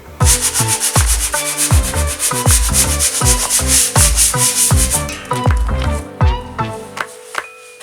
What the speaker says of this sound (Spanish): Vamos a echar mano de la lija y vamos a empezar a preparar la superficie.